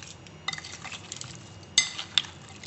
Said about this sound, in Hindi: दूध, इसको मैं मिक्स कर लूँगी।